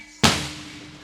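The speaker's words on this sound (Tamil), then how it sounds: "அவர் வந்தோடனே வெடி போடுறாங்க" A single firecracker bangs sharply, close and loud, its burst trailing off into a lingering crackle over a quiet background, set off as a welcome during a Tamil stage drama.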